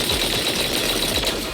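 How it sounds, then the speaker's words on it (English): Heavy cannon fire in the Zenless Zone Zero video game, a dense, continuous rumble of rapid heavy blasts that stays loud and close throughout, with no talking over it. "That was the sound of a heavy cannon?"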